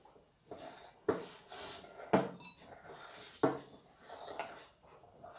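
A spoon stirs flour into homemade play dough in a bowl with several sharp clinks and knocks against the bowl, separated by quieter scraping, and no one speaks.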